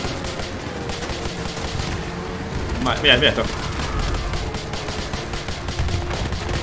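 Gunfire in Call of Duty Modern Warfare 2 Remastered, rapid automatic shots rattling under a voice, with a brief sharper burst near the middle against constant game background noise.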